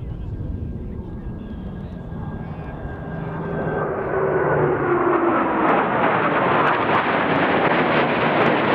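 Blue Angels jets flying a four-aircraft Diamond roll at an El Centro air show, a jet roar that swells from a distant hiss into a loud, sustained rushing blast, with an announcer talking over it.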